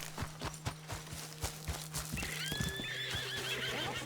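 Horse in Red Dead Redemption 2 whinnies with a long wavering neigh near the end, preceded by a steady run of clip-clopping hooves and a low hum throughout.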